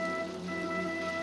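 Brief, steady patter of rain with a faint constant hum underneath, even in loudness throughout.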